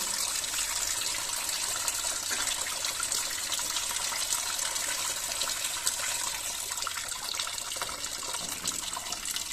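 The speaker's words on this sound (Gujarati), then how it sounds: "આ નળ દ્વારા હું એનું પાણીનું પ્રેશર પ્લસ માઇનસ કરું છું" Water gushing steadily from the tap of an instant mini water geyser, a loud, continuous close-up rush with no pauses.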